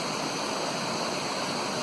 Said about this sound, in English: Water flowing through the woods today